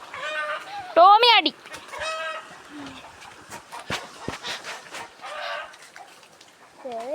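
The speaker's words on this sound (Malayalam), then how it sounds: "കോഴികളൊക്കെ കൂടി ഓടി വരുന്നുണ്ടല്ലോ" Chickens clucking and squawking as they run together near a house, with a loud burst of alarmed cackling early on and scattered clucks after, mixed with voices talking and a dog nearby.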